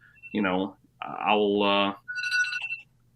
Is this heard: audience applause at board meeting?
no